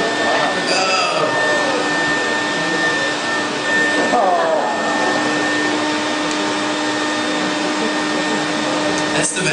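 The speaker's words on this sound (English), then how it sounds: "That's the vacuum cleaner." A vacuum cleaner mounted on a small autonomous robot at a robotics competition drones steadily with a whining hum, close and continuous, while people talk in the background.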